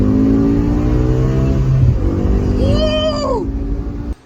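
A BMW M6 with its V10 engine revs hard, a loud, close, sustained high-pitched howl that climbs and falls, then cuts off abruptly at the end.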